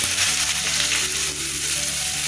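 Onions frying in hot oil for a chicken gravy, a dense, loud, continuous sizzle that holds steady without pause.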